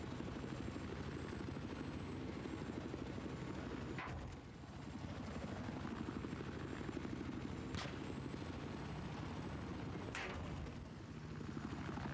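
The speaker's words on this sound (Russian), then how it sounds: "справа вертуха за нами летит" A helicopter in the video game Battlefield flies behind the player, its rotor drone loud and continuous, with a few sharp distant cracks cutting through.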